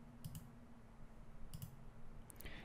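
Mouse clicks while saving an Excel file at a computer, a few faint, sharp ticks in separate small bursts over a quiet room background.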